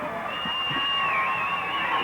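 Crowd cheering at a 1990 Ruston versus Ouachita high school football game in a stadium, a sustained loud roar with whistling tones running steadily throughout.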